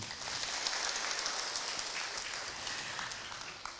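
Steady crowd applause at a religious gathering: continuous clapping from many hands for several seconds, with no voices over it.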